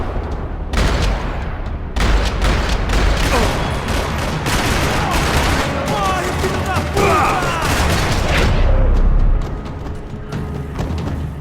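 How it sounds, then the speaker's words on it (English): Dense, continuous gunfire in a parking lot in the video game Max Payne 3 crackles and booms for several seconds, with rapid bursts layered over one another, loud and close, then tapers off. "Another parking lot rattling with gunfire."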